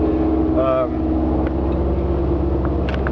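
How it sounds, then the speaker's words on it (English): A 1993 Prevost Le Mirage coach bus engine idles with a steady low rumble throughout, close and constant, with a few faint squeaks and clicks over it. "Now you hear the rum, the engine's it's running, and it's running strong."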